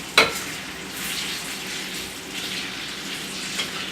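A potato and egg frittata with onions cooking in a pan, a steady gentle frying sizzle throughout, opening with a sharp clatter and a few faint scrapes.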